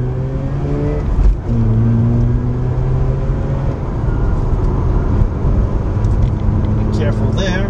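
A Mazda RX-8 rotary engine cruising in third gear at about 4,000 RPM and 50 mph, a loud steady drone heard from inside the car with road noise, while someone talks over it.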